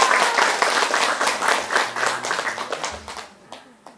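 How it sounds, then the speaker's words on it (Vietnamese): An audience breaks into loud, dense applause that rises quickly, holds steady, then thins out and fades toward the end. "Dành cho em một tràng pháo tay thật lớn nha."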